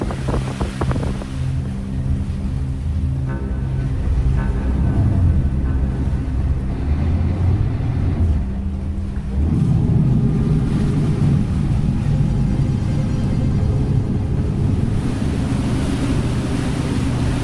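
A steady low Ford boat engine rumble drones beneath wind and rushing water, loud and continuous throughout.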